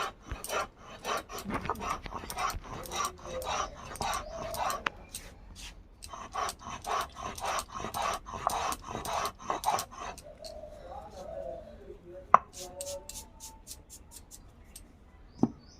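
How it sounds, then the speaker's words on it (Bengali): Black salt is ground by hand, a steady run of rhythmic scraping, rasping strokes close up. It pauses, and a few scattered knocks and rubs follow later. "এইভাবে আমি সব বিট লবণগুলো বেটে নেব"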